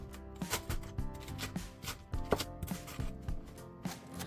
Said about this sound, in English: I believe it is easiest to first try to thin slice the leek